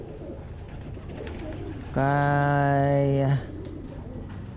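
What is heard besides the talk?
pigeons cooing in a loft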